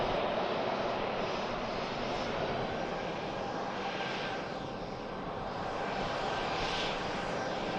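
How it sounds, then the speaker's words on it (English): Aircraft landing at Manchester Airport, a broad continuous engine roar that swells and eases slightly, heard from a distance and unbroken throughout. "Aircraft down. Nose gear."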